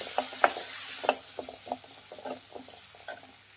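Masala with poppy seeds is stirred in a frying pan, giving a steady sizzle with rhythmic scraping strokes of the spoon close by and no voices.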